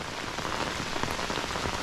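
Heavy rain pours during a thunderstorm on a hiking trail, a dense, steady hiss of drops pattering on nearby surfaces with no pauses or voices.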